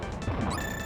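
Kick sound effect from a Bomberman video game, a loud smashing thwack over a dense bed of game audio, sounding once near the middle of the second.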